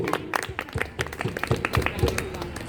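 An audience claps through the whole stretch at a Saraswati Puja festival at GMC Bettiah, Bihar, with dense, loud applause mixed with crowd voices and talking.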